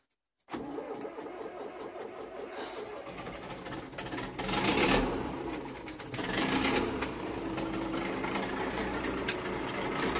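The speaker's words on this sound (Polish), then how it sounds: "Odpalanie zetora." A cold Zetor tractor diesel engine turns over and fires up, starting cranking then catching into a rough, rising idle with bursts of revving, heard close and alone with faint birds in the background.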